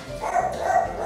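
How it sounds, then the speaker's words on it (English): A dog indoors lets out a short, close, fairly loud bark, or a pair of quick yips, heard alone with no talking. "My dog likes to disrespect me when I'm filming."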